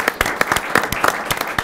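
Applause at a school committee meeting: a small group claps in quick, uneven, distinct slaps, close and fairly loud, for under two seconds.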